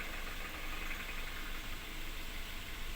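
A 2017 Daihatsu Terios VVT-i engine idles steadily with a constant, noisy hum and no voices, unchanging throughout; slight noise from the engine area and a rough-sounding clutch area.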